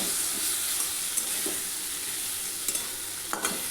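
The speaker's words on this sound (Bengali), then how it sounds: "সামান্য জল খুব ভালো মতো এটাকে কষিয়ে নিতে হবে" Ground spices, cumin among them, stir-fried with a splash of water give a dense, continuous sizzle and hiss, with occasional scrapes of stirring.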